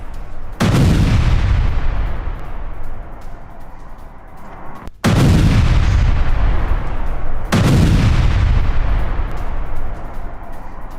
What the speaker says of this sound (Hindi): हमले के बाद रिफाइनरी में जोरदार धमाका होता है